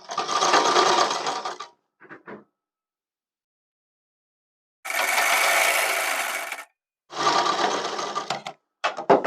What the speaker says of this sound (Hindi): दूसरी बार हम इस तरह से इसको फोल्ड कर देते हैं और लपकी सिलाई से इसको पक्का कर लेते हैं।